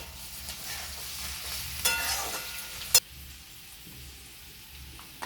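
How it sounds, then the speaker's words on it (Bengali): A spoon stirs mixed vegetables and spices in a hot pan for a restaurant-style mix veg, with a steady sizzle, soft scraping and a couple of sharp clinks against the pan. "এই সমস্ত মশলাগুলো দিয়ে আমরা এবার এটাকে ঘেটে নেব।"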